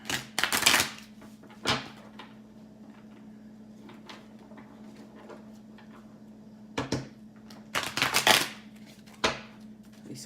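Stiff tarot cards are shuffled in quick riffling bursts of crisp clicks and flutters, a few short bouts separated by pauses over a low steady room hum, close and moderately loud.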